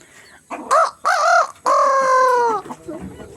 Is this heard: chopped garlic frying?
no